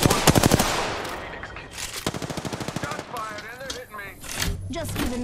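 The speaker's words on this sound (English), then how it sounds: "I'm getting shot at" Automatic gunfire in Apex Legends Arenas at Thermal Station, rapid loud bursts of shots in quick rhythmic strings with a voice speaking over parts of it.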